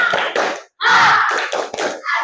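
A classroom of primary schoolchildren performs a rhythmic spirit clap in unison, sharp loud group claps in short bursts with a brief pause, mixed with shouted chanting voices.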